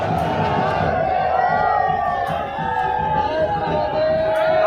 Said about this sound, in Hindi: तो भीड़ की बात करें ना, तो भीड़ काफ़ी ज़्यादा है।